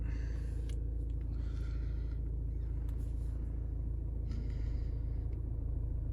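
A car engine idles steadily just after start-up, a low continuous rumble filling the cabin with a few faint rustles above it.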